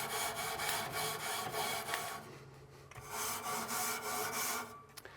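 A short wire bristle brush scrubs inside a Yoder YS640S pellet grill, giving a steady, close rasping scrape in repeated strokes with a brief lull partway through, heard alone without talk.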